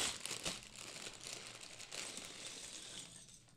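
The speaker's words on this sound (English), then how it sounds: "I'm going to make some crinkling, David, as a heads up." LEGO packaging is crinkled and rustled nearby, with a run of quiet, crackly plastic crackles and scrunches lasting a few seconds at low volume.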